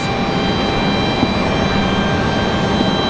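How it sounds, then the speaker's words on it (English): An American Airlines A321 departing Raleigh-Durham International Airport gives a continuous, moderately loud jet engine roar with a steady broadband rumble, alone without any talking. "Looks like we got that American A321 up next for departure"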